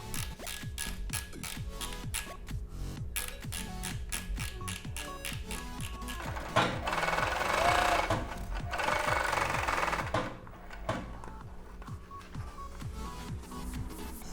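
An overlock serger stitching fabric with its thread tension loosened, a steady fast mechanical chatter of needles and loopers running continuously and close, louder in the middle stretch before easing off.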